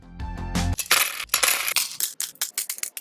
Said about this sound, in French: il faut que je retire toutes les touches